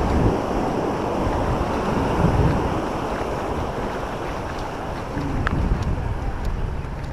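Surf breaks continuously on Palolem beach in South Goa, a steady broad roar of waves with wind buffeting the microphone and faint distant voices underneath.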